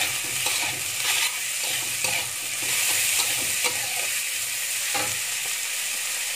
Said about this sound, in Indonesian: Tomatnya kita masukin. Nah, kita aduk lagi.